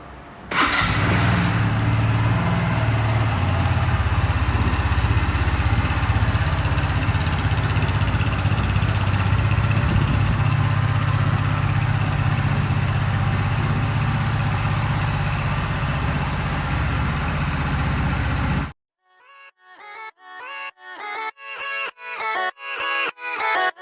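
A black 2021 Lambretta V200 GP scooter fires up and idles with a steady, close, fairly loud engine drone for most of the stretch, then cuts to music with rhythmic beats.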